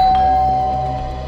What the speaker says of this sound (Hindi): दरवाजे की घंटी ने बचा लिया बच्चू